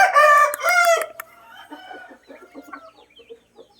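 A healthy, strong chicken gives one loud, close rooster crow lasting about a second, followed by a string of soft, scattered clucks that fade lower in volume.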